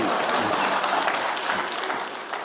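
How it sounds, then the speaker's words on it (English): An audience at a public finance conference opening ceremony in Uganda claps together, a dense, even wash of applause that holds steady and then eases off slightly toward the end. "you clap for that village"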